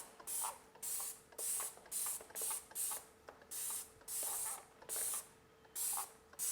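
A handheld spray bottle mists a houseplant being treated for mealybugs, firing about a dozen sharp hissing bursts in a steady, slightly uneven rhythm, close and clear with no talking.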